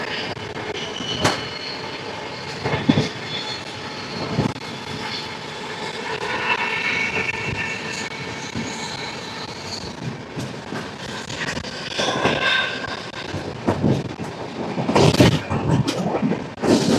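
The Rayalaseema Superfast Express, train 12794 from Nizamabad to Tirupati, runs at about 107 to 108 km/h near Vikarabad Junction, a continuous close rumble broken by sharp clicks and louder surges, with no talking.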